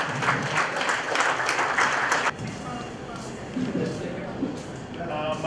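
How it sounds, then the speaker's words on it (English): An audience at a business conference applauds a speaker. Steady clapping stops abruptly partway through, followed by room noise and faint voices. "Please put a round of applause,"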